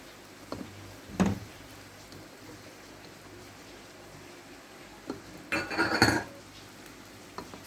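Semolina is added to melting butter in a pot while making homemade desi ghee, producing a few faint spoon scrapes and clinks against the pan, with a louder burst of stirring near the end over a quiet background.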